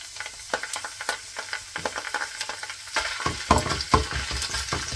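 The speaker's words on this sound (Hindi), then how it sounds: "जैसे ही ऑयल गर्म होगा तो उसमें लहसुन डाल देंगे कटा हुआ" Chopped garlic and ginger crackle and sizzle in a little hot oil while being stirred, with scraping sounds over a soft background hiss.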